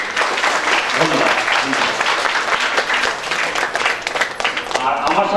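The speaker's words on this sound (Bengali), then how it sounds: "আমি আরেকবার জোরে হাততালি দিতে বলছি" Sustained audience applause at a Rabindra-Nazrul evening stage programme by a dance academy, a dense steady clapping wash filling the whole stretch with some crowd noise mixed in.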